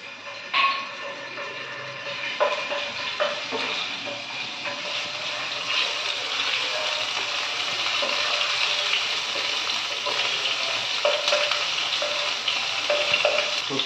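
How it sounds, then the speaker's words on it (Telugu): Ginger garlic paste sizzling in a few spoons of hot oil, a dense steady frying hiss with occasional pops and spatters, close and continuous throughout. "ఈ ఆయిల్లో మనం జింజర్ గార్లిక్ పేస్ట్ వేసేసుకుందాం కొంచెం"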